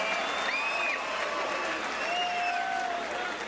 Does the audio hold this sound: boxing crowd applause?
yes